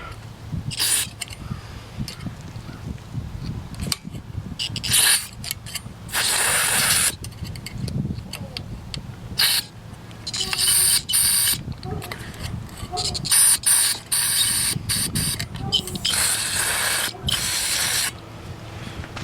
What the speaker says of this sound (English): Let's see if I can shoot some carb clean up in there.